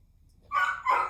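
A dog barks twice in quick succession, fairly close and clear, with a quiet background.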